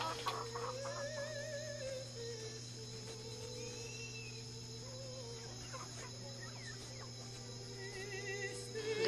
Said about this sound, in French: les poulets se chamaillent